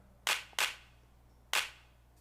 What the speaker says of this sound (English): Here's hand clap.